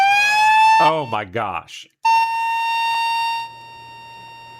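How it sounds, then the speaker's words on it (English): A pink ICE warning siren blares through the Highland Park neighborhood, a steady high tone with harmonics that cuts in after a shocked voice speaks, holding loudly for over a second before dropping to a quieter sustained level. "what you're hearing right there is an ICE warning. It's blaring through Highland Park."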